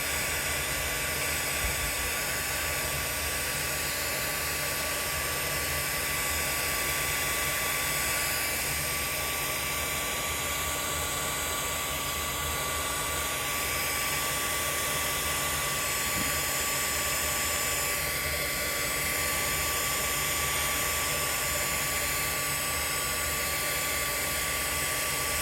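Heat tool blowing steadily over wet watercolor card, a continuous loud airy whoosh with a motor whine that holds at nearly constant level throughout with no talking.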